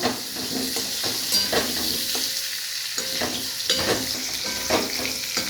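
Potatoes fry in oil in a pan while being stirred for a quick meat curry, giving a steady close sizzle broken by repeated scraping and stirring strokes, with no talking.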